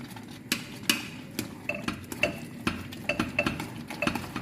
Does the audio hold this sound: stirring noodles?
yes